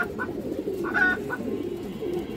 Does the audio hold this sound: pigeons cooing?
yes